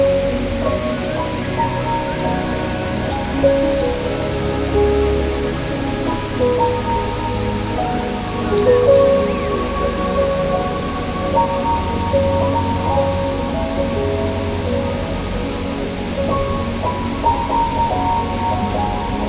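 Dehena Ella waterfall in Sri Lanka gives a steady, broad rushing wash of falling water that continues throughout, with faint sustained tones layered over it.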